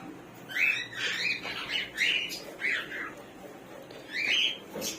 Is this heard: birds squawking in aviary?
yes